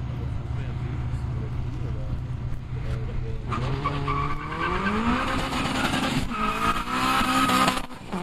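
Honda Civic Turbo and BMW E90 launching on a quarter-mile drag strip at Brilon, with engines revving up through gear changes and some tire squeal, fairly distant, while a commentator talks over the whole run.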